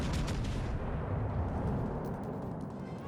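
Naval cannon fire and shells landing in a warship video game, with a dense, loud, sustained rumble of booms and blasts that trails off slightly.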